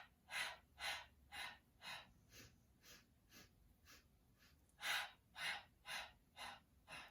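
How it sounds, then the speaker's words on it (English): Someone sniffs in a rhythmic series of quick, close nasal inhales during Pilates breathing, about a dozen evenly spaced sniffs with brief pauses, no talking. "and then continue sniffing"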